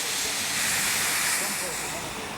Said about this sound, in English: Thomas Wicksteed is a locomotive on loan from the Kew Steam Museum.